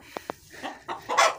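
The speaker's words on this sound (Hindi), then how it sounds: "ये एक ये मुर्गी लेके आया है" Aseel breed hen clucking on a farm: two sharp short clucks close by, then a run of softer, then louder, rising clucks and calls.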